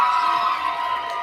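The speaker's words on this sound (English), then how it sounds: "Crowd got excited on that block" A crowd at a junior varsity high school volleyball match in a gym cheers loudly and continuously after a block, a dense wash of voices holding steady throughout.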